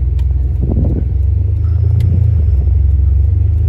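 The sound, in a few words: Ferrari 599 engine on a test drive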